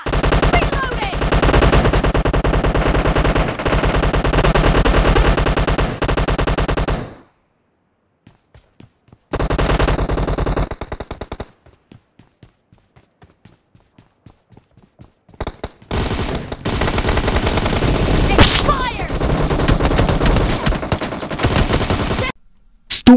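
Rapid bursts of M762 assault rifle fire in the shooter game PUBG, loud and close, come in long automatic strings separated by silent gaps and sparse single shots.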